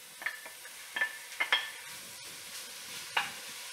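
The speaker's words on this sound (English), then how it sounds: "now that our pan is hot, we're gonna add our 1 pound of ground beef" One pound of ground beef browning in a hot Dutch oven without added oil, a faint soft sizzle with a handful of light spoon scrapes and clinks against the pot, close and quiet.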